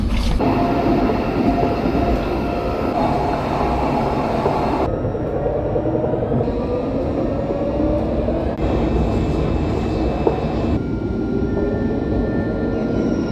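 A tram runs with a loud, steady rumble and whine from inside the car, its tone shifting as it speeds up and slows.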